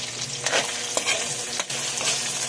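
Potatoes frying in a pan while being cooked for menudo, a steady hissing sizzle with occasional scrapes and stirring knocks, close and continuous with no talk.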